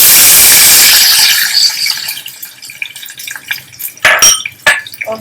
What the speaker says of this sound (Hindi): जैसे सरसों के दाने पॉप हो जाएंगे तो पानी डाल।